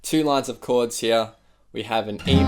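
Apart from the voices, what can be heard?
None of the usual background noises is heard.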